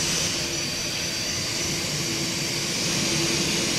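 Xi'an Y-20 Kunpeng military transport's jet engines in the Roblox game Aeronautica, a loud, steady broadband roar with a faint tonal whine, continuous and alone throughout.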